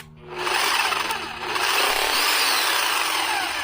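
A Harbor Freight rotary hammer runs in hammer mode for chimney removal, a loud, steady, buzzing mechanical chatter that starts after a brief quiet moment and continues unbroken, with no talking.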